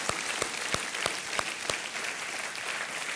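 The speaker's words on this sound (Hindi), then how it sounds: "उनके लिए हम तालियां बजाना चाहेंगे" A television quiz-show studio audience breaks into sustained, even applause, with a dense wash of clapping and a few sharper claps standing out, steady and fairly loud throughout with no talk over it.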